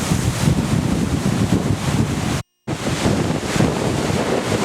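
Strong wind roars by the sea at the Lummi Island ferry landing, loud continuous gusting and buffeting against the microphone mixed with surf, broken by one brief silent cut.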